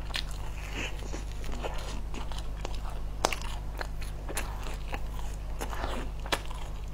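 Crunchy ice cream rolls are bitten and chewed close up, producing a run of sharp, crisp crunches and crackles at an irregular pace over a quiet, low background hum.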